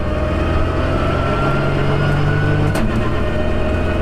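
A Lotus race car engine drones steadily and loudly from inside the car, with a brief dip in pitch near the end, no talking.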